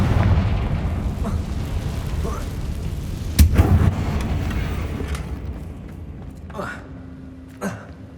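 Confringo blasting spell explodes in the Hogwarts Legacy video game, one sharp booming burst midway over a constant rumbling battle din, with voices speaking throughout.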